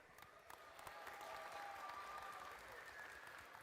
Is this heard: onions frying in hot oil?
no